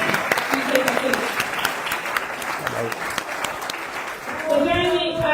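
Audience applause for a speaker at a community event on migrants, refugees and international solidarity, a run of scattered clapping with people talking over it, then a louder swell near the end.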